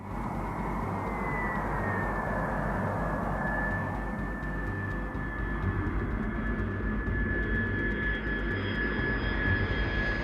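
B-2 stealth bomber jet engines in flight, a loud steady roar with a high whine sliding slightly downward, continuous throughout.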